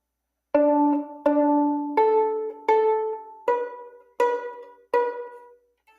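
A solo violin plays the opening of Twinkle Twinkle Little Star, seven clear separate notes climbing in pitch, each fading before the next.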